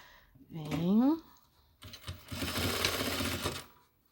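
A sewing machine stitches fabric for a zippered pouch in a close, steady whirring run of about two seconds, after a short spoken phrase at the start.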